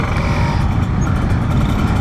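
Steady road traffic in a jam, cars and motorbikes idling and creeping together in a continuous loud rumble with no pauses, heard from among the vehicles, likely while riding an older Ninja 150 RR motorcycle.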